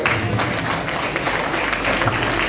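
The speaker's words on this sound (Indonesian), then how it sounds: "Kita beri tepuk tangan" An audience of retirees at a reunion gathering applauds steadily, with close, dense clapping that fills the room for a couple of seconds.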